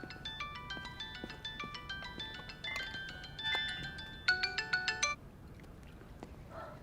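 A mobile phone rings indoors with a bright melodic ringtone, its short repeating notes quiet but clear and playing alone for several seconds before cutting off.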